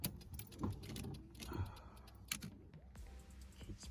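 Ignition being switched on in a Nissan Skyline R33, with soft key jangles and small clicks close by in a quiet car interior, followed by a faint hum.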